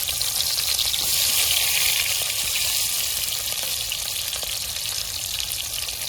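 Onions dropped into hot oil in a wok sizzle and fry for village-style cooking, a steady, close, broadband hiss with faint crackles that holds evenly throughout, with no talking.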